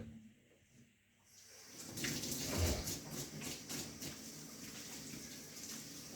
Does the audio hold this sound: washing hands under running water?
yes